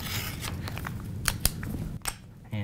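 Scissors cut paper while an envelope is made on a template scoring tool, a series of close, crisp snips and sliding rasps spaced irregularly over a couple of seconds, with no talking.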